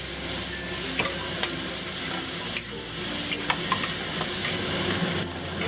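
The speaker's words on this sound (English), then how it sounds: "So stir fry this for about a minute" Mexican squash being stir-fried in a hot pan with seasoning salt, a constant sizzle broken by repeated sharp spatula scrapes and clicks against the pan, close and fairly loud, with no talking.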